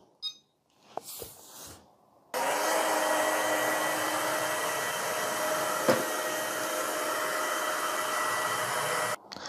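A robot vacuum on a hardwood floor: a steady, loud whirring motor hum with broadband hiss runs for several seconds after a brief quiet start, ending abruptly near the close.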